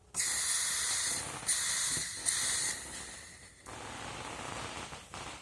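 Hissing from the gas installation of a 1992 Nissan Patrol with a 4.2-litre six-cylinder petrol engine: three sharp, close hissing bursts, then a softer, steadier hiss that cuts off near the end.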